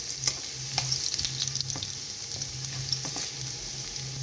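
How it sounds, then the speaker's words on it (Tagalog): Ginger slices sautéing in hot cooking oil until golden brown, a steady close sizzle with repeated light clinks and scrapes of a spatula against the pan, no voices. "Mainit na ang ating mantika. So, igisa natin hanggang maging golden brown siya."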